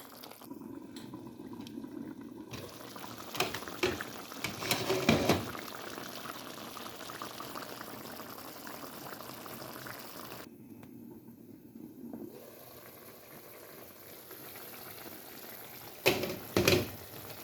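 Chicken simmers in a pot, cooking down to gravy, with a soft continuous bubbling and a few louder clatters and scrapes, close by and with no talking.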